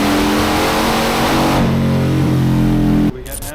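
A Harley-Davidson motorcycle engine on a dyno revs loudly, its pitch rising and holding in a strong drone before cutting off abruptly near the end, leaving quieter background noise.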